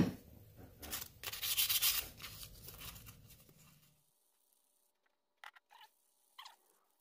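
Rusty vintage Case pocket knife sanded by hand with 500 grit paper, giving close, fast scratchy rubbing strokes for a few seconds, then quiet with a few faint handling taps.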